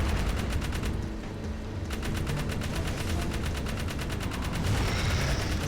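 Continuous rapid fire from a vehicle-mounted cannon in Jak 3, a dense unbroken stream of loud, evenly spaced shots layered over a constant engine-like rumble throughout.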